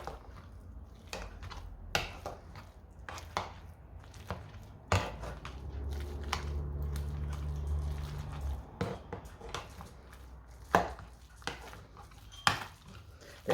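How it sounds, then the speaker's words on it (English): Boiled potatoes mashed with butter and milk for Irish potato cakes, repeated soft squishing and metal masher clicks against a pot at an irregular rhythm, close and fairly quiet, no speech. "And then we're just going to mash them."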